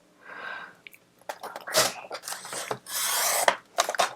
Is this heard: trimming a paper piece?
yes